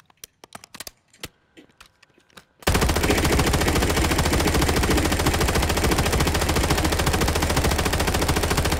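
Automatic gunfire in the video game Warzone, a few scattered clicks and short shots first, then a sustained loud, rapid burst that runs unbroken for about six seconds.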